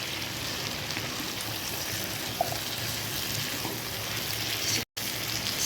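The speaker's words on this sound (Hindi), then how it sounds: "इस तरह से हम इसे थोड़ा सा फ्राई कर लेंगे" A potato, fenugreek and soya chunk sabzi fries in a pan with a steady, even sizzle, broken by a short gap near the end.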